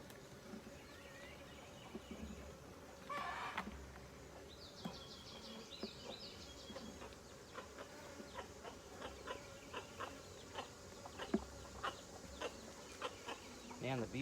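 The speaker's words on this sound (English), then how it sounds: "Man, the bees are just so nice today." Honeybees buzz steadily around an open hive during an inspection, a dense droning swarm with louder individual bees passing close, and a few sharp knocks and clicks from handling the equipment.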